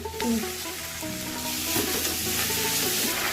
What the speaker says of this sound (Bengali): তারপর ফোড়নে দিলাম তেজপাতা, শুকনো লঙ্কা আর গোটা গরম মশলা, তারপরে পেঁয়াজ, আদা, রসুন।